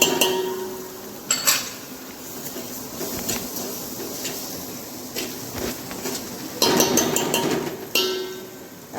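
A spoon stirs spices such as red chili, coriander-cumin powder and sugar in a pan over a low flame while they sauté. Scattered metallic clinks and scrapes ring out over a steady sizzle, with no talking.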